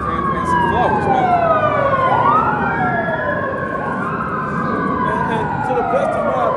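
Ambulance siren passing close by, loud wailing tones sweeping up and down over heavy road noise, with the pitch sliding as it goes past and no talk over it.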